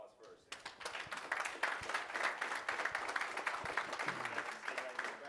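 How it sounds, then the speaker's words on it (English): Audience at a life insurance and annuities presentation claps for the panel before Q&A; the applause starts abruptly, builds to a steady fairly quiet patter and is joined by talk near the end. "Give them a round of applause first."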